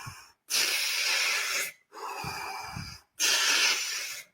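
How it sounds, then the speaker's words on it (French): Three long, deep breaths in a guided breathing exercise: audible airy inhales and exhales separated by short silent gaps, close and fairly loud with no talk. "Encore 15 respirations."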